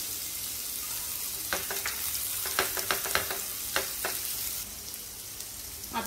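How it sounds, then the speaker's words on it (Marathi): Crushed garlic and a ginger-garlic-chilli paste fry for an Aagri-style bheja fry, producing a steady sizzle broken by a cluster of sharp stirring clicks and scrapes in the middle. "लसूण थोडं परतून घेते म्हणजे त्याचा कच्चा वास निघून जाईल"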